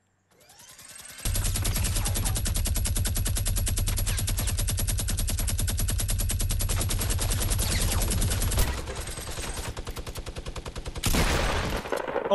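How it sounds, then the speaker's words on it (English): Rapid machine gun fire in Fortnite rattles off in a long, steady burst, loud and close, then falters and resumes in shorter bursts. "I thought that was machine gun."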